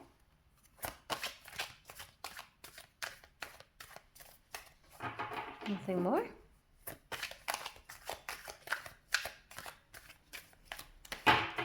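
Tarot cards are shuffled in quick riffling bursts, close and fairly quiet, with a brief spoken remark partway through.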